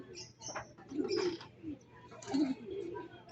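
Racing pigeons cooing on arrival at the loft after a release, soft low coos repeated several times at close range, with faint chirps and quiet background voices.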